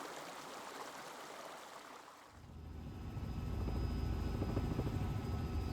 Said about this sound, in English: even the helicopter ride was cool